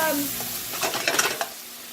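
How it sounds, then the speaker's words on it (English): Food sautés in a pan as wine sizzles off, a close, bright hiss with a quick run of stirring scrapes and clatters, no voices. "saute it a little bit till the wine evaporates from it"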